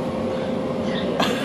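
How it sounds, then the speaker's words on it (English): Interior of a moving train on a two-hour ride from Gothenburg, a steady rolling rail rumble with dense hiss, close and continuous, with a faint brief squeal near the end. "2-hour train ride."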